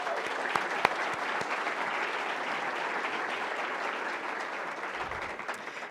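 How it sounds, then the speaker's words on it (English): A large audience at a New Hampshire State of the State event applauds Governor Ayotte with steady, sustained clapping that stays even and full throughout, with no voices heard over it. "So I want to give a big round of applause for Governor Ayotte for being here today."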